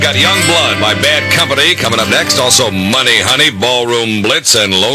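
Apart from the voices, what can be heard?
No distinct noise like a dog, phone or traffic.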